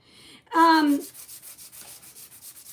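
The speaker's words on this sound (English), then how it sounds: "like 400 grit sandpaper. And this is just going to smooth out your paint." Sheets of 400 grit sandpaper rub over paint to smooth it, giving a series of soft, rhythmic scratchy strokes heard close by after a brief loud noise at the start.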